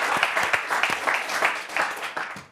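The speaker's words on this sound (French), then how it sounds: "Applaudissez-le." A studio audience applauds on a French football talk show: dense, steady clapping with scattered sharper hand strikes, fairly soft and alone.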